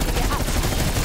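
Dense, continuous gunfire from a weapon in the zombie mode of Call of Duty Black Ops Cold War, a loud unbroken burst with no gaps between shots.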